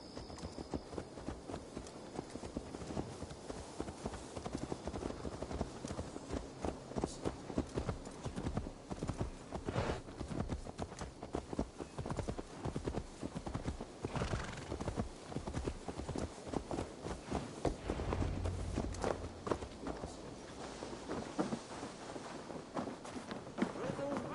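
Horse hooves in Assassin's Creed Valhalla clip-clop steadily on hard ground, a continuous trotting rhythm close by, with faint background ambience throughout.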